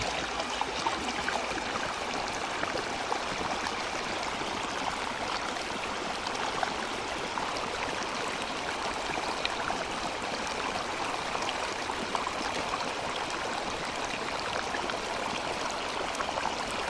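Steady rushing water flows through a gold prospecting sluice box, a constant, even wash with no breaks and no voices.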